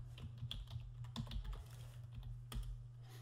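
Quiet, close typing on a computer keyboard while entering CMake code, with irregular clusters of key clicks and a few sharper keystrokes, heard alone.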